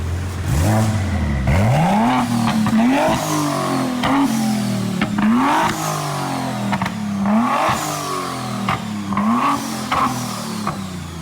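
A 2023 BMW M3 engine revs repeatedly in rising, snarling bursts through a raw, open straight-pipe exhaust, with crackles between pulls and no talking.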